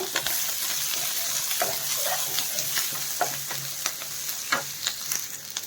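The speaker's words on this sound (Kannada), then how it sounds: "ಇದೆಲ್ಲ ಸ್ವಲ್ಪ ಫ್ರೈ ಆಗಬೇಕು" Egg roast masala with curry leaves fries in a covered pan, giving a steady close sizzle with scattered soft stirring scrapes and ticks throughout.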